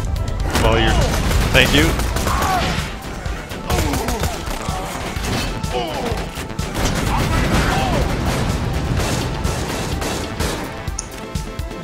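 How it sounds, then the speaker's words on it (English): SMG fire in Borderlands 2 during a wave fight at Fink's Slaughterhouse, loud continuous rattling bursts mixed with other weapons and impacts, with people talking over the shooting. "I'll just shoot my SMG"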